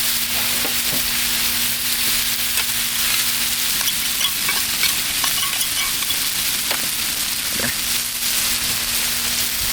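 A crunchwrap cooks in a pan, sizzling loudly and continuously at close range, with a low steady hum underneath and occasional faint ticks.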